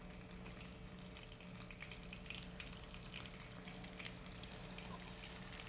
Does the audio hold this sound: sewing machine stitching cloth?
no